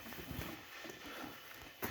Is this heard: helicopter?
no